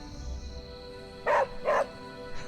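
A pet dog barks twice, close and sharp, outdoors at night by a tree, with a quiet pause between the barks and a brief thump at the end.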